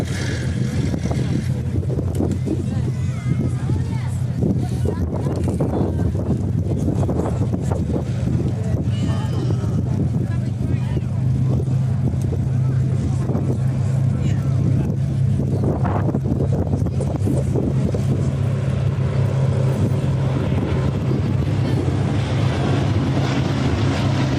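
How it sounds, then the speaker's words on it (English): A Lancaster and a B-17G Flying Fortress 'Sally B', bomb bays open, orbit at an airshow, their steady droning engine hum continuous and moderately loud beneath gusty wind buffeting the microphone. "as the aircraft orbit in front of us with their bomb bays open"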